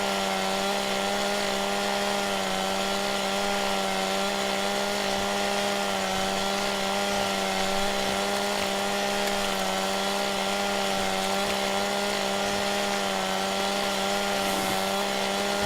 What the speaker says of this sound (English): Let's get these trees trimmed up first.